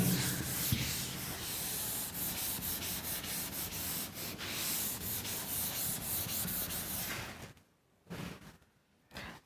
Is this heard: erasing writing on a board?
yes